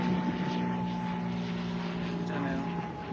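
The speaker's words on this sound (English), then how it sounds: "There's an airplane somewhere. Where is it?" A steady propeller airplane drone hums overhead, constant and moderately loud, with a low engine tone underneath.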